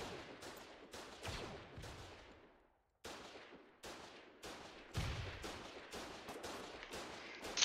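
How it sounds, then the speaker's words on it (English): Sharp single gunshots crack at irregular intervals while AI defenses are shot at in the Foxhole video game, each shot decaying with a short echo and one brief pause midway. "You're shooting AI defenses"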